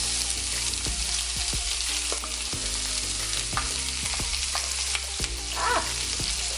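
Diced onions fry in hot bacon grease with a steady, loud sizzle close by, punctuated by scraping and clinking as they are stirred in the pan; no talking.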